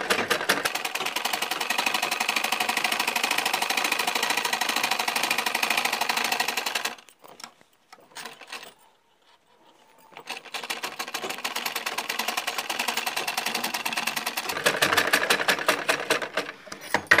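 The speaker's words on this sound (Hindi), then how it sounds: "यहाँ से सिलाई लगाएंगे" A sewing machine stitches cloth for socks made from leftover fabric, running in a steady fast mechanical whir that stops briefly midway with a few short bursts, then resumes and carries on loudly.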